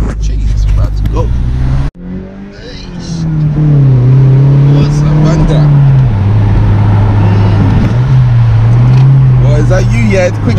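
A BMW 1 Series E88 118i M Sport convertible accelerates hard, its engine note climbing loudly and dropping at quick gear shifts, with voices faintly audible underneath.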